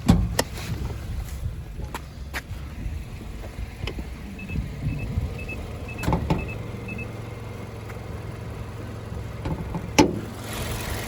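A 2017 Mazda 3 engine idling evenly, a low, steady hum heard from close by, with a few faint clicks and taps over it and no speech.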